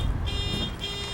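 A car alarm sounds outside, a continuous pulsing electronic tone held over a heavy low rumble, loud and steady through the whole moment with no one talking.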